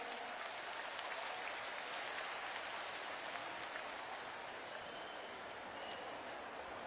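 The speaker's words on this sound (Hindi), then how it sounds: "आइए हम सब भी जोरदार तालियों के द्वारा अभिनंदन करें।" A crowd at a public event honouring a bank loan handover gives sustained applause, a steady, distant wash of many hands clapping without letting up.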